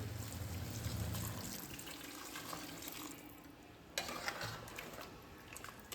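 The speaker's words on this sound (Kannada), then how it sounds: "ಇವಾಗ ಕಾಯಿದೆ, ನಾನು ಬಿಸಿ ನೀರು ಹಾಕ್ಕೊತಾ ಇದ್ದೀನಿ" Hot water poured over chicken in a pressure cooker pot for biryani, a steady gushing, splashing stream of liquid that runs continuously, briefly thins, then picks up again near the end; no voices.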